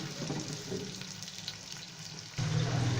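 Sliced onion sizzles in a pan over low to medium flame, a steady close frying hiss that grows louder near the end.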